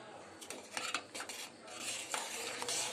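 A metal spoon clinks and scrapes against a pot while cardamom powder is stirred into sago kheer, a quick cluster of taps followed by smoother stirring, close and quiet, with no speech.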